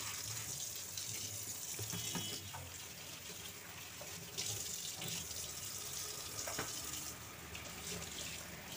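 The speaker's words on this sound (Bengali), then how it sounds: "এদিকে আমি সুন্দর করে এই যে বেসিনটাও ধুয়ে নিলাম" Water runs steadily from a tap into a kitchen sink as it is washed, a continuous hiss and splash with occasional clinks and knocks, close and moderately loud throughout.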